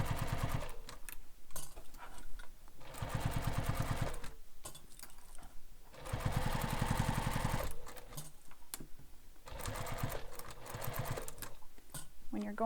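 A sewing machine stitches binding around a beach bag in several rapid, rattling runs separated by short pauses, close and steady, with a quiet voice and handling noise between bursts.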